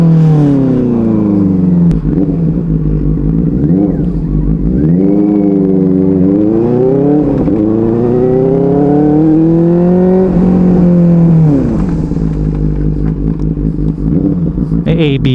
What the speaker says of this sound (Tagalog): Ganda ng tunog ng motor.